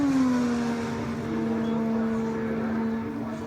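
An IndyCar race car laps Indianapolis during 2018 Indianapolis 500 qualifying, its engine a steady high-pitched drone with slightly falling pitch as it passes, loud and continuous with no talk.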